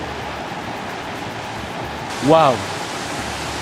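A spectacular waterfall, the Etcha cascade in Amou prefecture, Togo, gives off a steady, even roar of falling water. A brief excited exclamation from a voice rises over it partway through.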